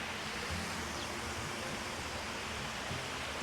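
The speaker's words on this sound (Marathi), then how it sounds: "छान असा आवाज येतो झऱ्याचा." A steady, continuous rush of a hillside stream flowing, even and broadband with no breaks, filling the whole scene.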